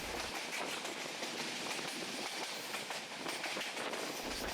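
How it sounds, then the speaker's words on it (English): A metre gauge train hauled by an old ALCo YDM4 diesel locomotive moves slowly on a single line through the teak forest of Katarniaghat. It makes a steady, close rumble with a continuous clatter of wheels on the rails. "The train runs through the teak forests of Katarniaghat."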